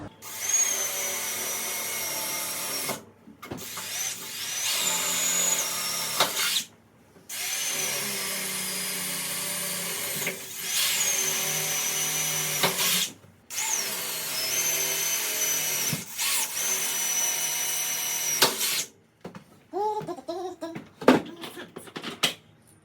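A power drill bores small pilot holes through material, whirring in several sustained bursts of a few seconds each separated by short pauses, close and loud, with a few sharper tool clicks near the end.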